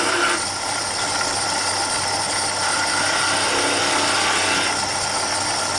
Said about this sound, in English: Come in with my gouge.